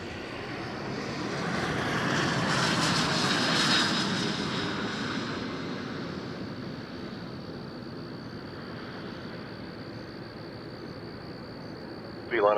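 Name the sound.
airplanes at Toronto Pearson Airport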